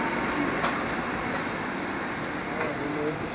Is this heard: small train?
yes